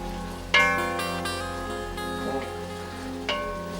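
Carrots and pre-boiled beans frying in a pan for vegetarian pilaf, a steady close sizzle with a sharp burst as something is stirred or added early on and another later.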